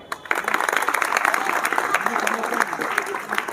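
A room of children claps for themselves at a Brahma Kumaris session, bursting into dense, fairly close applause after a short pause and keeping up a steady patter throughout.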